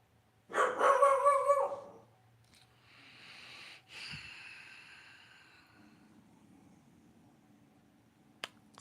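A dog gives a loud burst of barking near the start, lasting about a second, followed by quieter rustling and a faint wheezy sniffing sound, then a single sharp click near the end.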